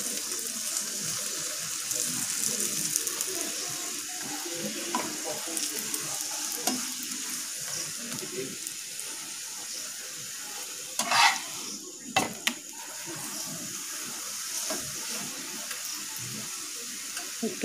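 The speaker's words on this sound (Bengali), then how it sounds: "এবার আমরা তেল দিয়ে পরোটাগুলো ভেজে ফেলবো।" Aloo parathas fry in oil in a pan, a steady crackling sizzle running for a long stretch, with a few louder spatula scrapes and knocks near the middle as the flatbreads are moved or turned.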